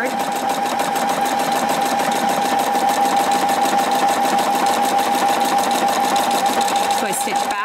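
A Brilliance 75Q sewing machine runs a steady, rapid satin stitch forward, its motor holding an even whirring hum and needle clatter for the whole stretch, loud and close.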